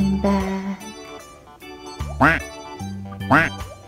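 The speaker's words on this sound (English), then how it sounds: "Mommy duck said, quack, quack, quack." A children's nursery-rhyme duck puppet lets out several loud, nasal quacks in a bouncy rhythm, backed by light musical accompaniment.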